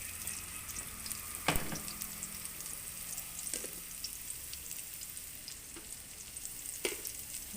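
Chinese kale and pork stir-fry in a hot pan with a steady, loud sizzle throughout, broken by a few sharp clacks of a spatula against the pan, with no voices.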